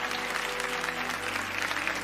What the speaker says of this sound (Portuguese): queria pedir palmas para ela